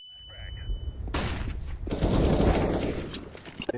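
In a Counter-Strike wingman match, a flashbang grenade goes off as a loud, sharp broadband burst, then a second blast swells into sustained crackling noise with gunfire-like bursts over faint background chatter.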